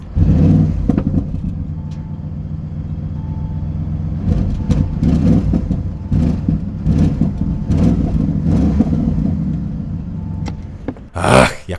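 Audi RS6 GT with a 4.0 V8, engine running and revving in repeated rising bursts over a rumbling idle, close and loud, ending in a sharp blip.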